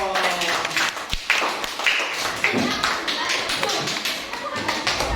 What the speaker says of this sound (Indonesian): Oh, beri tepuk tangan dong.